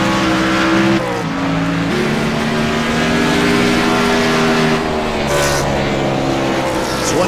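Race cars in the AMS Wounded Warrior Cup Series at Sonoma Raceway drive out of the final turn onto the front stretch, their engines a loud, continuous drone that shifts in pitch as the cars accelerate.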